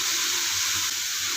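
A small amount of water is poured into a pan of frying carrot stir-fry, producing a continuous close hiss and splashy rush that stays even throughout, with no talking.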